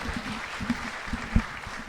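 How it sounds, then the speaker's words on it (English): A temple audience at a Sunday love feast for Gopastami gives a round of applause: soft, scattered claps spread across the room, with a few sharper hits standing out above a general murmur. "let's give Prabhu another round of applause"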